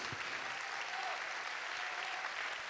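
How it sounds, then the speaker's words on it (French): Steady sustained applause from an audience honouring festival staff at a 2018 closing ceremony, a dense even clapping heard at a moderate distance without a break. "Encore des applaudissements pour eux."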